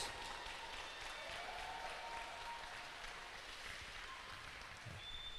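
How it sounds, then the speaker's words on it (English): A crowd applauds two fighters after a caged mixed martial arts bout, dense even clapping heard from a distance, sustained and fairly faint throughout with no talk on top. "let's give a big round of applause for these two athletes"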